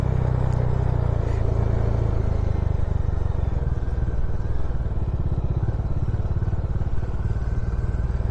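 Motorcycle descending a hill road near Mirik in North Bengal on engine braking, a steady low engine drone with rumbling wind noise throughout, close and continuous with no voices.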